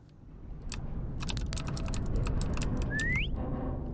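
A video game character gives a short rising whistle near the end, heard over steady close keyboard typing and clicking.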